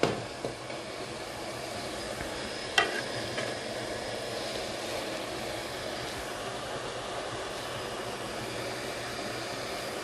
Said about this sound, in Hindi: बिल्कुल गोल्डन हो जाए, ब्राउन गोल्डन ब्राउन हो जाए प्याज, तब तक हमें भूनना है